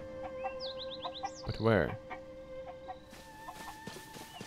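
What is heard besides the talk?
cucco chicken clucking in Zelda Tears of the Kingdom video game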